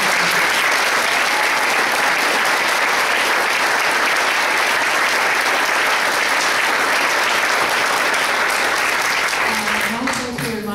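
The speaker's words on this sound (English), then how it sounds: "I'd like to give them a round of applause." Loud, sustained applause from a large crowd at a mayoral candidate forum, a dense steady wash of clapping that carries on throughout and thins slightly just before a voice starts near the end.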